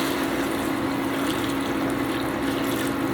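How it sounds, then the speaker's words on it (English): Steady rushing hiss of boiling water pouring continuously into a pot of beef, close up, with no voices. "Some hot boiling water."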